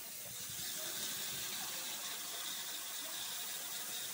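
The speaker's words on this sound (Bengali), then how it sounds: "এবার আমি জল দিয়ে দেব" Water poured into a cooking pot for a Bengali sour dish, a steady soft rushing stream lasting several seconds, quiet and alone with no voices.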